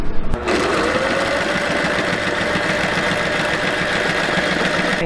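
A sewing machine stitches with heavy thread in a fast, even mechanical whir with a rapid pulsing rhythm, close and loud. It starts with a brief clunk and then runs continuously to the end.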